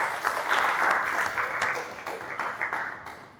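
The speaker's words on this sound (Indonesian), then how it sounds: "Beri tepuk tangan untuk kita semua" A classroom of students applauds together in a steady burst of overlapping claps that gradually thins and fades toward the end.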